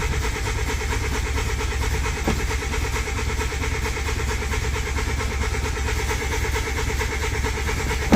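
A VW Polo engine cranks repeatedly with a steady, rhythmic churning that never catches, loud and close throughout.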